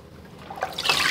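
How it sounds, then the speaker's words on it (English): A papermaking mould dips into a vat of water with fabric pulp, a faint short swish and trickle that rises into a brief splash toward the end. "I'm going to dip down into the water"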